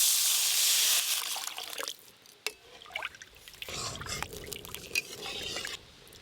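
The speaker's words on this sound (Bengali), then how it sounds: "এবার জল দিয়ে দেব।" Water poured into a pan of spice paste (ground turmeric and dried chili) frying in hot oil: a sizzling rush at first, then splashing, dripping and bubbling liquid, with low talk in between.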